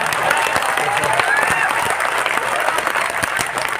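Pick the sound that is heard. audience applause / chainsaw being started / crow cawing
audience applause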